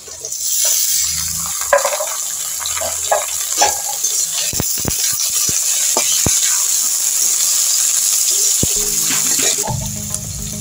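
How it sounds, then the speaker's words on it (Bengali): Onion, garlic and potato fry in a pan with a loud, close sizzle and crackle, broken by scraping stirs and a few sharp clatters. "পেঁয়াজ রসুনটা একটু ভেজে নিই, একটা আলুও দেবো এর সঙ্গে।"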